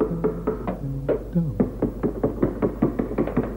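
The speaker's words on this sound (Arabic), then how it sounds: "هاي شخص يدق الباب" Someone knocks on a door in an Arabic children's television episode. A steady run of sharp, close raps repeats in a quick rhythm, with voices and tonal sounds over the first part.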